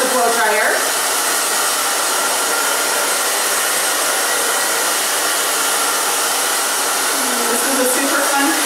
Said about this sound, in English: you're going to want to kind of go up with the blow dryer.